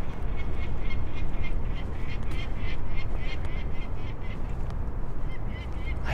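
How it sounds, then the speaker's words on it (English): A couple of falcons give repeated sharp, fussy calls on a St. Louis, Missouri city walk. The calls come in a steady series over constant wind and traffic noise, and there is no talking. "They are falcons."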